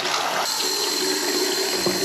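Water gushes steadily from a newly plumbed sink faucet in a 125-year-old Victorian house, a loud, continuous hiss of running water with no voices.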